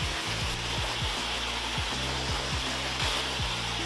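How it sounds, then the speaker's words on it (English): A blow dryer runs at a steady loud whoosh while a round brush works through damp hair, its strokes heard as repeated rhythmic sweeps over the constant airflow, close up with no talk. "When you're using a blow dryer and a round brush, take your round brush, pull your hair back, and go like this."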